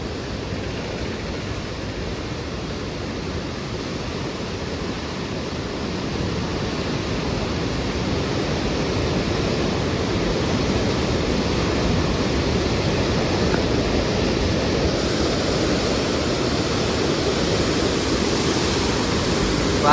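River water rushing through the opened gate of the Koneripatti barrage, a steady, dense broadband roar that holds close and loud for the whole stretch and swells slightly partway through, with no voices over it.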